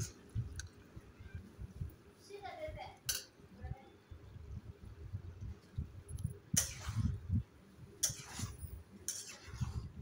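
A spatula scrapes and clinks against a pan while stirring Guntur-style eggplant fry, in irregular soft strokes with occasional sharper metallic taps, and a voice speaks faintly in the background.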